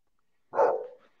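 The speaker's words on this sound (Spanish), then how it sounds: "tus perros están haciéndote de barra." A single dog bark, loud and close, a short sharp burst that trails off quickly, standing alone against a quiet background with no talking.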